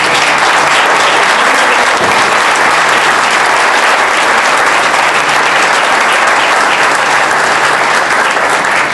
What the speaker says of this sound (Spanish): Me gustaría que le ofreciéramos a este caballero un fuerte aplauso para Agustín Prades.